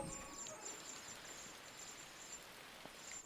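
Steady, faint rain patters softly in the side-scrolling game Inside, a continuous hiss of drops with a few scattered brighter ticks and no voices.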